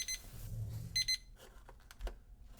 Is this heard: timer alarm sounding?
yes